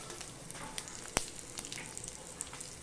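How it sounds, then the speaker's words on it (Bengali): Quiet, steady sizzle of whole spices and bay leaves frying in hot oil with scattered small pops and one sharp click, close by and without voices. "ভালো করে ভাজছি"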